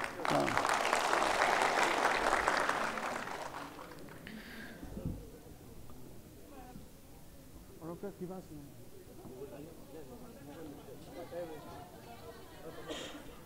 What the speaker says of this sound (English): let's give a big round of applause to Dr. Reni once again